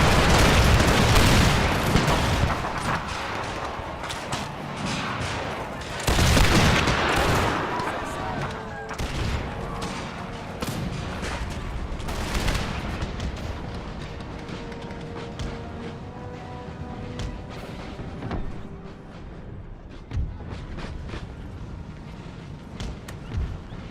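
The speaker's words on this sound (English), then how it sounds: "Make ready, present," Musket volleys crack out in an Empire: Total War battle, a heavy rolling fusillade at the start followed by further volleys and scattered shots fading into the distance over battlefield ambience.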